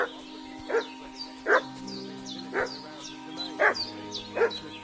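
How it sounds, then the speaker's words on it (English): A dog in the video game Kingdom Come: Deliverance 2 barks repeatedly, five evenly spaced, fairly loud barks over a quiet background with faint birdsong and a low tonal hum. "What's that dog making such a fuss about?"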